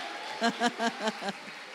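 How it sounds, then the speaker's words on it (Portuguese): A church congregation clapping during a morning worship service: a short, thin burst of applause of rising and falling claps, fairly faint and distant, with a voice speaking over it. "Vamos dar uma salva de palmas para o Senhor Jesus?"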